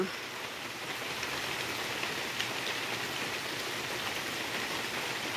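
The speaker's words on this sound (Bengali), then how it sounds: "বৃষ্টিটা খুব জোরেই হলো" Heavy rain pours down on a garden in a dense, unbroken hiss of countless drops. The roar stays loud and steady throughout, with no voices.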